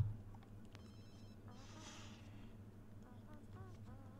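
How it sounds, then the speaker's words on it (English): A phone rings inside The Sims 2 in a college dorm, its electronic ringtone bursts rising from a steady game-music and ambient bed, with a person talking over it. "You need to answer your phone"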